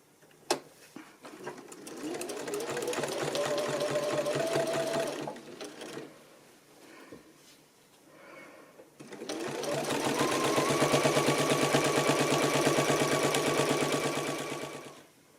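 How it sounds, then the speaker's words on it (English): A sewing machine stitches binding onto a quilt: an opening click, then a steady whirring run, a short pause with handling noises, and a second longer, louder burst of stitching, close and alone. "put it back under the machine and start sewing again"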